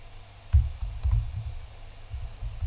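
Typing on a computer keyboard while entering an address in a web browser, a short run of soft, close key clicks with a few firmer taps, alone without talk.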